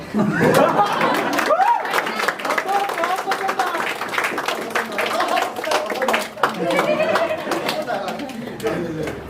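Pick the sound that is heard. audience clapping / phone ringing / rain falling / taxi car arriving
audience clapping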